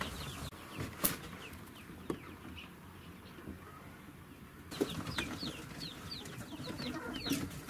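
Chickens and a rooster clucking nearby in short scattered calls, with a few sharp knocks and rustles, busier and more frequent toward the end.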